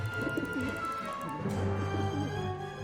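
A pigeon in the video game Syberia 4 gives soft, throaty coos that repeat in a low rolling rhythm, close and clear against a quiet background.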